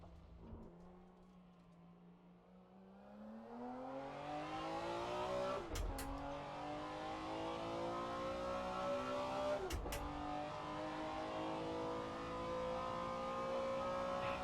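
BMW M1 Procar race car in Assetto Corsa on the Nordschleife tourist track, engine revving and climbing steadily through the gears with brief sharp gear-change blips, loud and continuous.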